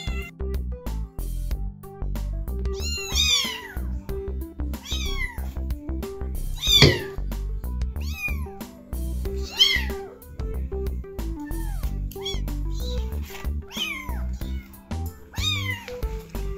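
Three-week-old rescue kittens meowing repeatedly, high thin cries close by at irregular intervals, with one louder wail partway through and faint human voices now and then.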